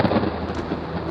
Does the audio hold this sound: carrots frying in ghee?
no